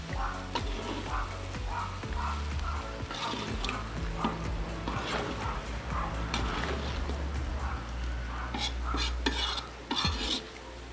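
Duck and vegetables are stirred in a kazan, with repeated scraping and clattering of a utensil against the metal pot over a low, steady sizzle, close up and without speech.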